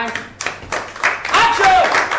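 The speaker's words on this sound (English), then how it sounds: "Action पे सब लोग clap करेंगे, okay? Clap करो. Clapping." Crew members on the set of a TV serial start clapping, a few scattered claps that quickly build into a fuller burst, with people's voices talking and calling out over it.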